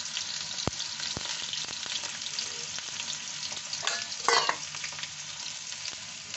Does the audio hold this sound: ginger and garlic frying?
yes